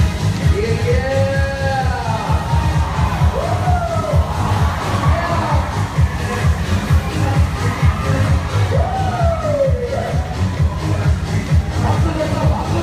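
At an outdoor event at Daegu Spa Valley with a flying board show, a crowd claps steadily and cheers throughout, with scattered shouts and a few whooping voices rising over the dense applause.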